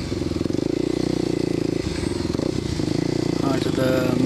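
A Kawasaki KLX250SF supermoto motorcycle rides onto a muddy gravel road at an offroad ATV poker run, its single-cylinder engine droning steadily up close with rattling gravel and wind buffeting, and a voice talks briefly near the end.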